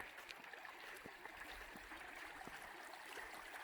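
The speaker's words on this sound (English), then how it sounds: "I love the sound of that running water." Running water of a mountain creek, a faint, steady babbling flow with small trickles and splashes, heard from a short distance without voices.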